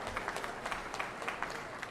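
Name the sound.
crowd clapping to welcome the chief minister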